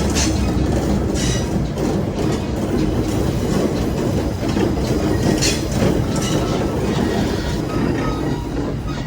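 A passing train hauled by a diesel locomotive in autumn along the Hiwassee, a loud continuous rumble with rhythmic wheel clatter and hiss, close by and unbroken, with no talking.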